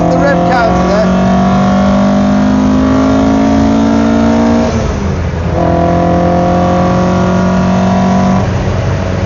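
A 1972 Alfa Romeo Giulia Super Twin Spark engine pulling hard in second gear, a loud rising rasp that climbs to high revs, dips briefly at a shift, then climbs again, heard close from inside the car.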